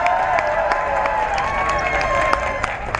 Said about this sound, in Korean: 우리 문선생님에게 뜨거운 박수를 다시 한번 보내주시기 바랍니다